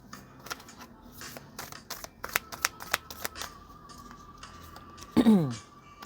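Oracle cards shuffled in a tarot-style reading, giving a run of quick papery riffles and taps, ending in a louder burst of cards falling together, with a steady faint tone behind.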